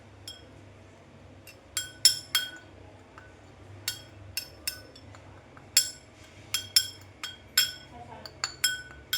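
Spoon clinking against a glass while mixing salt and Kashmiri chili, sharp bright taps in irregular bursts of several strikes, close and clear over a quiet background.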